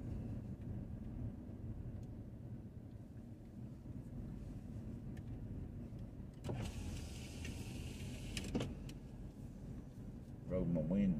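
An electric power window on a car rolls down while driving, a brief rising whir against steady road and engine rumble, followed by louder wind and exhaust noise as the opening widens.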